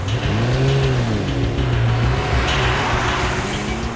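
A car pulls away, its mid-range engine revving and rising in pitch, loud and close, with steady road noise under it and no talk.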